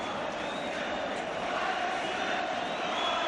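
Dense roar of a Celtic football crowd at a 1980 European Cup match against Real Madrid, a steady, distant wash of massed voices filling the whole stretch, with a faint rise toward the end.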